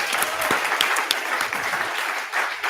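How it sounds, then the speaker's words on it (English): Steady, dense applause from an audience at a live political breakfast event, sustained and fairly loud throughout, with no speech on top. "Give yourselves a round of applause."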